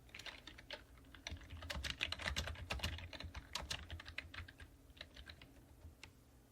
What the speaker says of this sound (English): the typing's quite loud